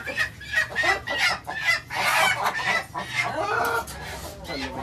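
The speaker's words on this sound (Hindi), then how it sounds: "ये सारी मुर्गियां ऊपर आ गई।" Chickens clucking on a backyard poultry setup, a busy chorus of repeated short clucks and squawks from several birds close by, continuous throughout.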